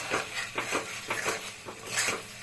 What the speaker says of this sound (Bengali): এখন এই অবস্থা একটু কষাবো আরো ভালো করে, নাড়াচাড়া করবো।